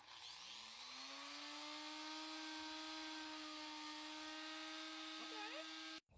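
A small power tool whines steadily as it sands the edges of EVA foam cosplay armor, a high buzzing hum that stays level close to the mic before cutting off abruptly.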